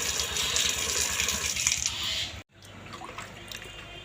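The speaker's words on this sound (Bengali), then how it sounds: "সবজিগুলো সব ধুয়ে নেব এখনকার শীতের সবজি একটু বেশি জল দিয়ে দিতে পেঁপেগুলো ধুয়ে নেই" Winter vegetables and papaya being washed in water, with close splashing and dripping, then a brief break followed by quieter trickling and handling sounds.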